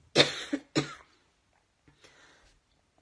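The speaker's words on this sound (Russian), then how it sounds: "Как видите, кашель у меня еще не прошел." Two sharp, close coughs in quick succession, followed after a pause by a softer breathy throat-clearing sound, with silence in between.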